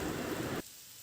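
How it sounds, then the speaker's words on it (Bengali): Cucumber fries in a pan with cumin, coriander powder and a little sugar, giving a dense hissing sizzle that cuts off abruptly partway through, leaving only faint background noise. "তারপর এই সব উপকরণগুলো দিয়ে ভেজে নিতে হবে প্রায় 1 থেকে 2 মিনিট পর্যন্ত"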